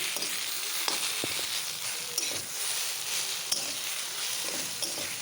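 Taro leaf curry with bean seeds and ghee is stirred in a wok, giving a steady, close sizzle with scraping and a few light metallic clinks of the spoon against the pan, and no voices.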